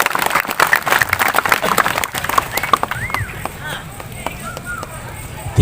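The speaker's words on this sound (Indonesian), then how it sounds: "Tepuk tangannya ikhlas buat Ajat Sudrajat." A congregation at an Isra Mi'raj religious gathering claps in a burst that fades after a couple of seconds, followed by voices and a short whistle-like tonal sound.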